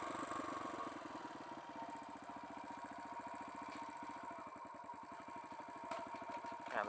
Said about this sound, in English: Let's go let it idle first.